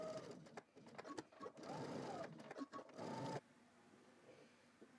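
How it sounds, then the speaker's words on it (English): Sewing machine running top stitching a quarter inch from a first seam on a Simplicity S9822 garment, a loud steady mechanical whir in bursts that stops abruptly, leaving quiet room tone. "now I'm going to go and do one more top stitching a 1/4 inch away"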